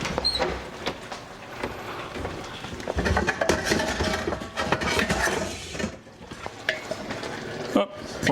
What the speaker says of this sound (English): I love when you hear this kind of skillet going.